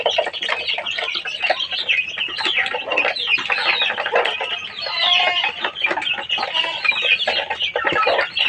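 A flock of 16-day-old layer chickens clucks and peeps busily while eating starter feed on a farm. The dense, continuous chatter of many birds sounds close, with no talking.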